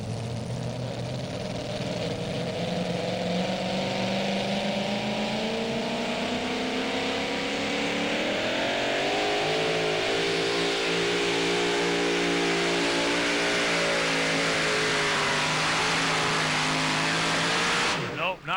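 Chevy two-wheel-drive pulling truck at a tractor-pull competition, its engine roaring loud and sustained for a long pass, pitch climbing steadily as it revs under load before cutting off abruptly at the end.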